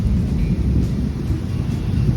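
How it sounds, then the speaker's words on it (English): Rain falls on an evening in Beaufort, Georgia, a dense, steady low rumble throughout that could be thunder or heavy downpour, with no talking. "Just kidding, it's raining."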